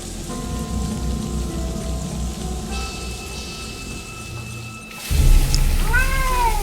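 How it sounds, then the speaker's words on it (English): A mangy cat in the video game Lost Horizon gives a clear, drawn-out meow with rising and falling pitch, heard after a sudden thud over steady rain and a low ambient hum. "Just a mangy cat."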